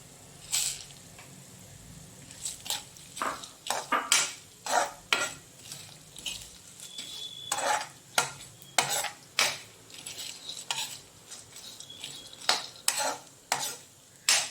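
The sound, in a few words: pumpkin seeds roasting and stirred in ghee in pan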